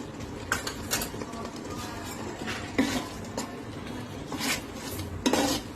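Spices, red chilli powder and coriander-cumin powder, stirred into a vegetable mixture for Rajkot-style chapadi undhiyu, with repeated scraping and clinks of a spoon against the pan over a steady low background.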